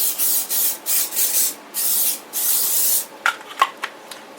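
Cooking spray hisses into a baking dish in several close, steady bursts, followed by a few short scraping knocks.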